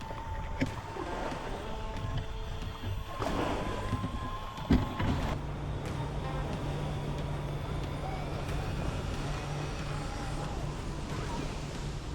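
An anniversary Blazer RC scale truck crawling slowly along a trail in low gear, a soft continuous motor whir with scattered bumps and crunches from the terrain, fairly faint and steady.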